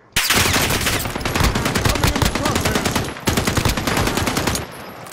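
Rapid automatic gunfire in the video game Call of Duty: Pacific, loud dense bursts of shots running almost continuously, with a brief break midway before firing resumes.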